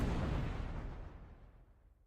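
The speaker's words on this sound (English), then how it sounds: "The sound of a massive explosion assaults Tokarev's ear." Massive explosion in the video game Girls' Frontline: a loud, broad low boom that starts at full force and rumbles away over about two seconds, with no voices.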